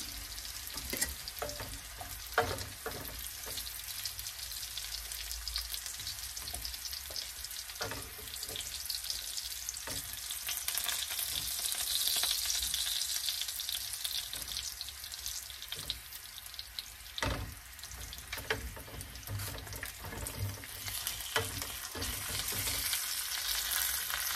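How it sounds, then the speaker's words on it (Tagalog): Garlic sizzles and spits steadily in a hot pan, with scattered sharp scrapes and knocks as a utensil stirs it, a continuous close-up frying hiss with no talking. "Ito na lang bawang. Lulutuin ko lang siya ng konti."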